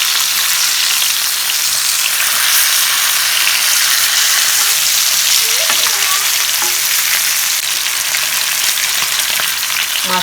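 Tilapia (jalebi fish) coated in masala frying in a pan, a steady loud sizzle holding throughout with a few faint scraping touches, no voices.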